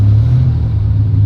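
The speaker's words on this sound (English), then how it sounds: "My car sounds bitching with this new microphone. It's picking up every little sound that this car is making." A car engine while driving, a loud, steady low droning rumble close up with a slight waver, and no voices.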